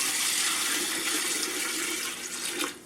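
Water streams steadily from a tap or jug over a whole turkey sitting in brine, a continuous splashing pour that fades and sputters near the end, with no talking.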